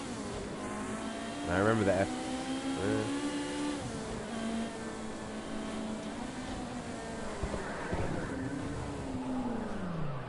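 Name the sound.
Ferrari race car engine accelerating in Project Cars 2 video game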